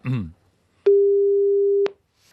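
A telephone line rings out during a call to a listener on a radio show: one steady, single-pitched ring tone lasts about a second, preceded by a brief voice.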